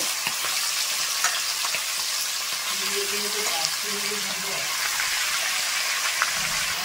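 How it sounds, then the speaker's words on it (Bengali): Chicken pieces frying in a pan with turmeric and salt, giving a steady, dense sizzle that holds throughout at close range, with a faint voice briefly beneath it. "তো ভালো করে চিকেনটা ভেজে নেব।"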